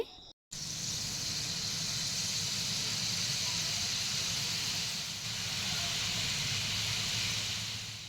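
Bhujiya, a gram flour snack, fries in hot oil with a steady, even sizzling hiss that runs almost unbroken after a brief silent moment at the start.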